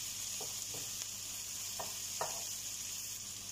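Onions cook in a pan with a soft, steady sizzle, quiet and even, with a few faint utensil taps and no voices.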